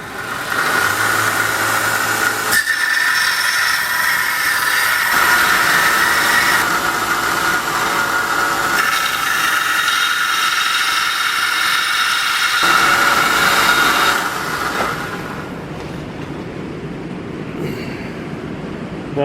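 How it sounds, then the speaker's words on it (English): A Harbor Freight 1x30 belt sander, one-inch by thirty-inch belt, grinds and cleans up a hand-forged knife blade with a loud, steady abrasive whine broken by brief pauses as the blade is lifted and pressed again, then eases off near the end. "this is the 1x30, 1 inch by 30 inch belt sander that I've gotten from Harbor Freight"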